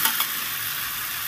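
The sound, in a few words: taro and potato frying and being stirred in spices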